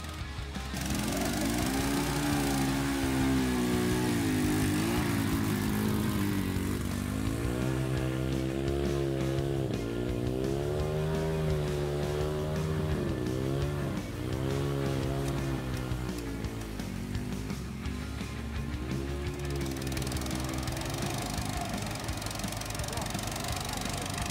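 Motorbikes, including an electric bike, and ATVs riding offroad, a continuous loud engine drone rising and falling as they accelerate over rough ground, with a voice talking over it.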